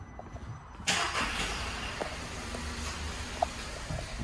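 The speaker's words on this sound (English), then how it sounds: "If you turn that ignition off now, and then back on, and then start it again" A 2016 Audi A1 salvage car cranks and fires up, with a sharp burst of starter and engine noise that settles into a steady idle, close by and heard alone.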